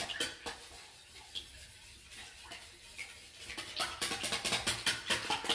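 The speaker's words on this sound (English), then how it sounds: "we just want to whisk those eggs, break those yolks up" A spoon clatters against a bowl while eggs are whisked, starting as scattered clinks and building into a fast, steady rhythmic tapping in the last couple of seconds, close and fairly crisp.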